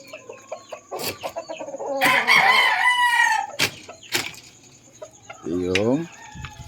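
Pet chickens cluck in quick, close bursts while a rooster lets out a loud, drawn-out crow, followed by another shorter crow near the end, all without talking.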